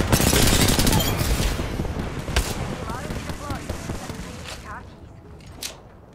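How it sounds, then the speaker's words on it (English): Rapid automatic gunfire in Apex Legends, loud dense bursts that thin out over several seconds with scattered later shots, under a player's voice. "Who's still shooting at me?"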